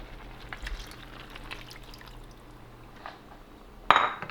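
A cornstarch mixture is poured into a pan of lion head meatballs, giving a faint, soft liquid trickle that ends in a brief, louder splash.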